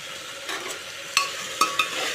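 Food fries in a pan seasoned with black pepper, a steady soft sizzle broken by a few sharp scrapes and clinks of a spoon stirring against the metal, close and without voices.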